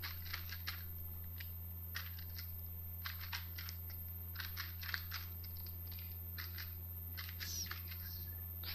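Scattered clicks of code being typed on a computer keyboard, short flurries of keys separated by pauses, soft and close in a quiet room.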